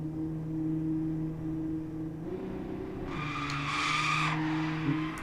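Race cars in the racing game Assetto Corsa, engines droning steadily with a rising tire-squeal skid midway, loud and continuous with no talk.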